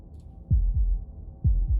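Two deep double-thump heartbeats from the video game Slay the Princess, each pair a low lub-dub, loud and close over a quiet hum with no voices.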